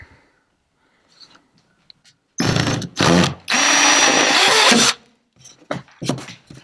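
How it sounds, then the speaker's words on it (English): A power drill bores a hole in a Jackson Liska kayak hull, loud whirring bursts that stop and start, with a long steady run in the middle and short faint grinding touches before and after. "So we're going to drill that hole towards the top of this"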